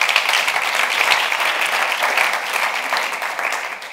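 Steady applause from an audience at a Barcelona conference talk, dense and even clapping at moderate loudness throughout with no voices on top.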